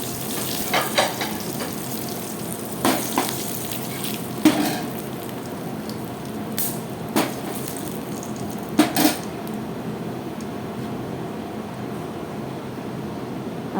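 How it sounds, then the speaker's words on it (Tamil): Curry leaves and two dried red chillies fry in hot oil for tiffin sambar. A steady crackling sizzle runs throughout, broken by occasional scrapes and clinks of a stirring spoon against the pan, close, with no talk. "ஒரு கொத்து கருவேப்பிலை உருவி போடுங்க. 2 வரமிளகாய் நல்லா கிண்டி விடுங்க."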